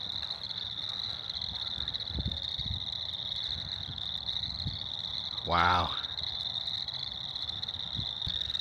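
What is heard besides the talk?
frogs croaking at a marsh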